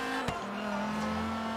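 A front-engined, rear-drive car in Forza Horizon 3, swapped from a V12 to a Viper-sounding engine, holds a steady, loud low-rev drone with a brief sharp crack near the start and no talking.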